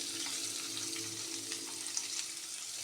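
Onion deep frying in oil in a pan for a radish stir-fry, a steady close sizzle and crackle with a soft watery bubbling hiss running evenly throughout, no voices.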